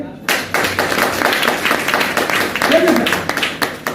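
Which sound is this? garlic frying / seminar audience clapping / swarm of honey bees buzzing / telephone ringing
seminar audience clapping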